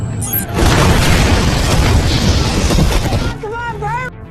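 A bomb explodes in a film scene, a loud sustained roaring boom that fills several seconds before fading, followed by ringing tones and voices.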